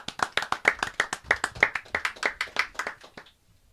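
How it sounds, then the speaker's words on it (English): Light, polite golf clapping from a small audience at a live craft-beer show introducing its musical guests; about a dozen and a half even, crisp claps in a steady rhythm, close and clear, then fading to quiet. "Golf clap."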